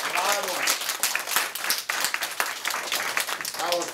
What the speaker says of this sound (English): Can you all stand up and clap for yourself? I want a loud clapping.